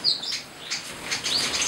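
Small munia finches in a breeding aviary give high, thin chirps and tweets along with brief wing flutters, close and fairly clear, with no speech.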